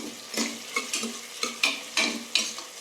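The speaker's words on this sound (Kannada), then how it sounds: "ಎಣ್ಣೆ ಹಾಕ್ಕೊಂಡಾದ್ಮೇಲೆ 2 ಈರುಳ್ಳಿನ ಸಣ್ಣದಾಗಿ ಉದ್ದು ಕಟ್ ಮಾಡಿದ್ದೀನಿ, ಅದನ್ನು ಹಾಕ್ಕೋತಾ ಇದ್ದೀನಿ." Sliced onions fry in oil inside a pressure cooker, a light sizzle punctuated by a regular series of scraping strokes from a spoon stirring against the metal.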